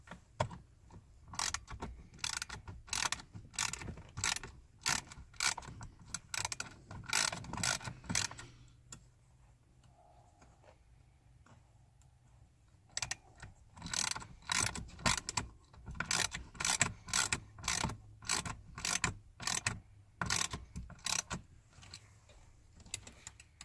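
A hand ratchet tightens the release bolt of a car's backseat latch, giving rapid, evenly spaced clicking strokes close by in two long sequences with a quieter gap between them.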